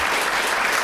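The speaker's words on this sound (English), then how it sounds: "Just want to give a round of applause to everyone who spoke." Dense applause from a convention panel audience at a comics event, steady and loud throughout without a break, with no voices standing out above the clapping.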